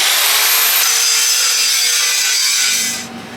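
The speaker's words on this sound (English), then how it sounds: "We're busting out the big grinder too." A big grinder works on a trailer being widened, a loud, steady, continuous grinding roar that holds for about three seconds before easing off at the end.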